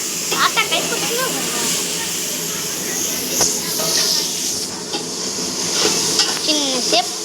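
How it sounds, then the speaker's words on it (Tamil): A grandfather stirring food in a sizzling pan, a loud close hiss and frying crackle with repeated scraping strokes, while voices talk over it. "தாத்தா தான் இப்போ கிண்டுறாரு"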